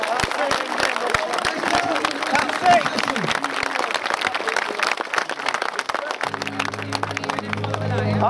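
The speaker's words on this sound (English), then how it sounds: "I think they deserve a round of applause." Steady crowd applause at a street demonstration in Rotherham, a continuous patter of many hands clapping close and fairly loud, with a low hum entering near the end.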